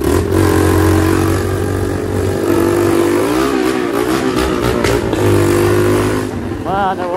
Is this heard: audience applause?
no